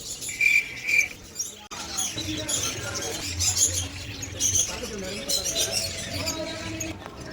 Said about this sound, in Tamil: இந்த கிளி சவுண்ட்லாம் எப்படி இருக்கு பாத்தியா?